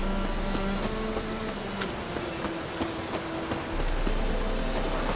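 In-game rain from The Witcher 3: Wild Hunt hisses steadily, with faint buzzing tones and soft ticks scattered through the even downpour.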